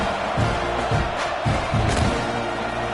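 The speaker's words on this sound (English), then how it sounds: "this crowd is buzzing after that last score" Crowd noise from a football stadium in the video game Madden, a steady loud buzz of many voices with a few low thumps rising through it, continuous across the moment.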